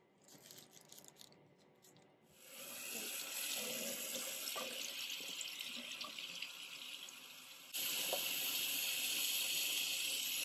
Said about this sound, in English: I'm gonna wash it off here in the sink so you guys can see.